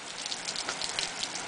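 Rain falls steadily outside near an open door, a dense even hiss of drops on surfaces with no voices over it.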